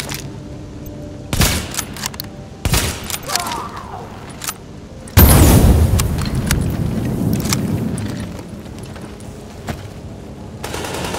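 Sharp, loud gunshots crack in The Division, spread irregularly through the scene, with one heavy burst and a rumbling blast midway that trails off into ongoing firefight noise.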